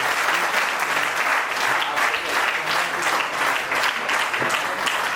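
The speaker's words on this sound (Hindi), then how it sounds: "खड़े होकर एक बार फिर से जोरदार ताली से स्वागत करें the one and only Rajesh Agarwal sir का" A standing audience bursts into loud, sustained applause to welcome the featured speaker at a motivational talk, dense continuous clapping filling the hall without pause.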